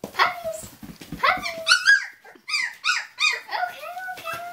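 Puppies yelp, bark and whimper in high squeaky bursts, close and lively, with short pauses between the cries.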